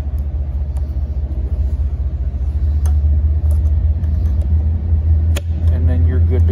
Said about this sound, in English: All right, we are at wide open throttle right there.